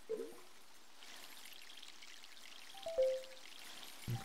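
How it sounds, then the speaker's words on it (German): A brief watering pour on a plant in the MySims video game, heard as a soft trickle and drip beneath faint game ambience, with a couple of small chime-like tones and no talking. "Hier dann nochmal gießen"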